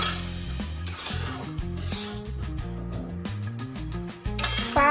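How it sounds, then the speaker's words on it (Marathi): Semolina being roasted in a pan for barfi is stirred with a metal spoon, giving repeated scraping and clinking against the pan in a quiet, close kitchen setting. "रवा जास्त आपल्याला करपून द्यायचा नाही"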